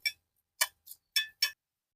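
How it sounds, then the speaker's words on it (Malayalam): Rice grains roasting in a pan for a jackfruit curry crackle with five sharp, faint pops spaced irregularly across two seconds of otherwise quiet air. "അരി പാങ്ങിൽ പൊട്ടുന്നുണ്ട്"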